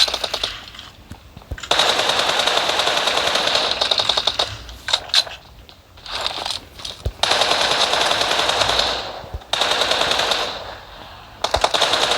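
Machine gun fire in the mobile game PUBG Mobile rattles in long rapid bursts, loud and close, separated by brief pauses and shorter volleys.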